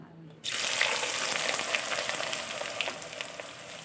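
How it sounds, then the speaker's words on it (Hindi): Chopped onions hitting hot oil already seasoned with toasted ajwain, bursting into a loud, steady sizzle after a brief quiet start and holding strong and close throughout. "ऑयल गर्म मेरा हो गया था और मैंने इसके अंदर प्याज डाल दिया"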